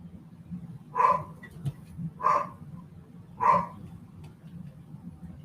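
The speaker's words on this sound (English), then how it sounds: "Stupid dogs." Dogs bark three times at an even pace, each sharp bark standing clear above a low, steady background hum, with no one talking over them.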